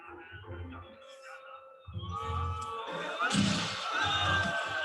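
A crowd at a basketball game jeers and hollers at a free-throw shooter, a loud, sustained wall of voices with whoops and bellows swelling near the end.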